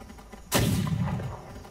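A single heavy cannon shot bursts out about half a second in, a sharp loud boom with a deep rumbling tail that fades slowly over the next second, with no talking.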